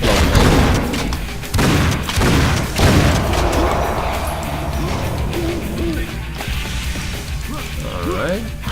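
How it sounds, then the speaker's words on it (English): Explosion in the video game Painkiller: Hell & Damnation, a loud booming blast at the start followed by rumbling crashes and debris that fade into lingering background game noise. "I want to blow it up."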